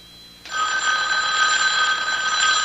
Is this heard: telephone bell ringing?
yes